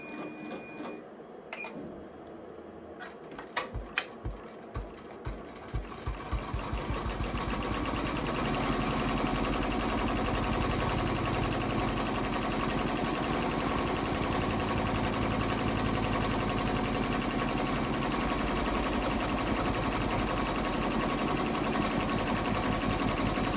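Sewing machine stitching a decorative stitch in fuchsia thread on a mug rug, starting with a few slow clicking stitches, then settling into a fast, steady, close mechanical whir that runs continuously.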